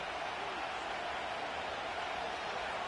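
Stadium crowd noise in the Madden 25 football game, a Chargers at 49ers matchup, rising as a broad, steady roar of cheering that carries on evenly beneath the game's commentary.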